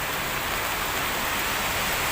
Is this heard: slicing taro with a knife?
no